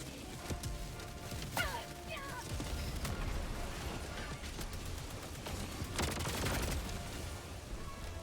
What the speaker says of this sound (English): Partly because of that turret cannon. Oh, is that what was shooting me?